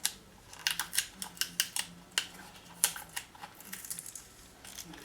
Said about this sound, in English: I'm going to take the sticker off.